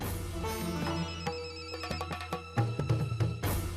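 A telephone rings with repeated bright electronic tones in an uneven pattern that pauses briefly partway through, heard fairly close with no talk over it.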